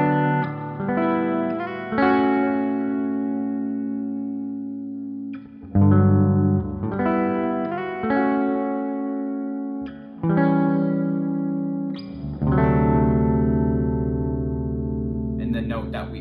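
Electric guitar plays the bridge of a song, moving through chords like a D6 with effects and reverb; sustained strummed chords ring out in several phrases, loud and alone with no talking.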